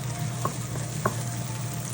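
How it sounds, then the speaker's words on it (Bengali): Onions frying in a pot for Bangladeshi shahi haleem, a steady soft sizzle with a couple of faint stirring knocks, close by and alone. "এই পেঁয়াজগুলোকে আমি ভালো করে ভাজবো যাতে কাঁচা গন্ধটা চলে যায়।"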